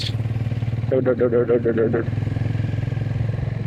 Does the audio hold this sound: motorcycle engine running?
yes